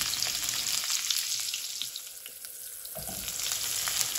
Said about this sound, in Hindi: हल्का सा बस प्याज को सौते करेंगे हम